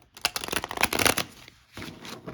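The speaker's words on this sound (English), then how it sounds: "then we'll pull 10 cards for a Celtic cross spread" Tarot cards shuffled by hand for a Celtic cross spread, a close, crisp riffling flutter that rises to a dense burst and then settles into a softer second run.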